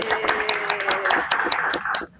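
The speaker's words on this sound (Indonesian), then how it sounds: "Tepuk tangan dulu dong buat kelompok 1 gugus" A group claps and cheers for the first presenting team at an online or classroom study session, with dense, steady applause that cuts off abruptly near the end.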